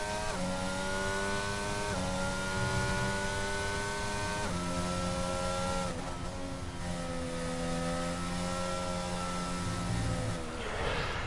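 Formula 1 car engine in a racing video game during a qualifying lap at the Brazilian Grand Prix, a loud steady high-pitched whine that climbs through rising gear pulls, with brief drops at shifts and no talking.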